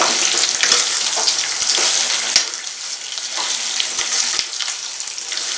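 Onion and gongura chutney mixed in a hot pan, a continuous bright sizzle with scattered scraping taps of a spoon against the pan.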